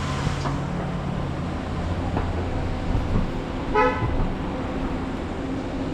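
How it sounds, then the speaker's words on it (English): A bus passes on a busy street in Macau, with steady traffic rumble throughout and a short horn toot standing out near the end of the stretch. "Bus is coming."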